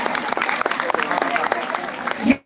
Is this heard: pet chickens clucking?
no